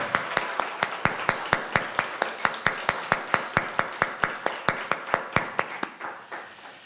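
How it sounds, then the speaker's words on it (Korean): A church congregation claps in welcome during a worship service: a loud, even run of crisp claps in a steady rhythm that fades out at the end. "환영의 박수,"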